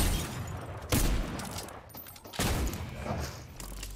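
Video game gunfire in a busy firefight, with two or three sharp loud shot bursts standing out over a continuous dense noise bed and no clear speech.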